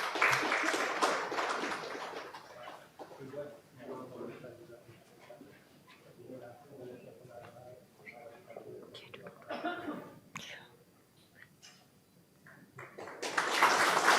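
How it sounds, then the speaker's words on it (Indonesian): Crowd applause at an Al-Azhar award ceremony honoring Indonesia's Vice President. A loud burst of clapping opens, gives way to a stretch of talk, then a fresh wave of clapping swells at the end. "Berikan tepuk tangan yang meriah."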